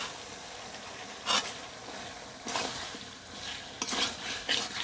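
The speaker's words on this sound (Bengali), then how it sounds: "গোস্তের সাথে ভালো করে মশলাগুলোকে মিশিয়ে নিচ্ছি" Chicken pieces are tossed with fried onion and spices in a pan for biryani, giving a soft background sizzle broken by several rough scraping bursts of the stirring spoon, close and unaccompanied by speech.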